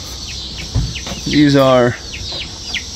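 Chickens and young chicks in an outdoor mixed farm flock give scattered soft peeps, then one louder, drawn-out clucking call. A person briefly speaks nearby.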